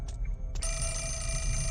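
A telephone rings in the video game Fatal Frame: Mask of the Lunar Eclipse, a steady electronic bell tone that starts partway through and carries on without a break.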